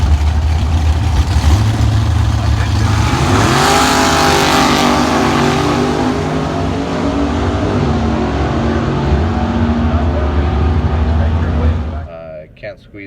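A McLean M717 drag car engine revs at a family ranch. The roar is loud and continuous, rising and falling in pitch, and cuts off sharply near the end.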